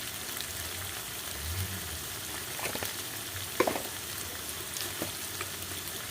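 Ground spices with turmeric, salt and chili sizzle and fry in oil for a mutton curry, a steady crackling hiss with a few scraping stirs partway through, close and alone without any voices.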